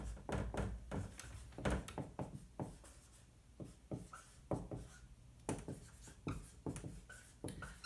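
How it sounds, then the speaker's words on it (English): Marker or chalk strokes on a lecture-room board, a series of short scratchy taps and scrapes in irregular rhythm, close and moderately loud, with no talking. "Let me write it down."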